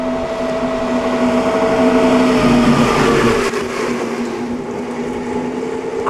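A vintage Bugatti at the Concorso Villa d'Este drives past with a loud, steady engine drone that swells as it nears and then fades away into the distance.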